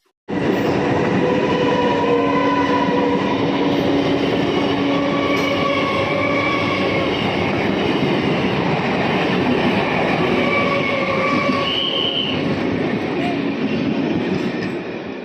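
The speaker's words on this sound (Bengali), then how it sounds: "যতবারই আসি না কেন 10 মিনিট এইখানেই লেগে যাবে রেল গেট পেরোনোর জন্য, কারণ একসাথে 3-4টে ট্রেন তো বেরোবে" Trains roll past a closed railway level crossing in a steady, loud, continuous rumble of wheels and carriages that lasts throughout, with clattering rail noise and a brief higher squeal near the end.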